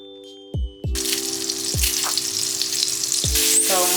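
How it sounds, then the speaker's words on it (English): Cream-based butter sizzles steadily in a hot pan, a dense hiss that switches on partway through and holds, with a few low clanks and knocks of a utensil against the pan. "First I'm going to heat up my pan, and I'm actually using this cream-based butter"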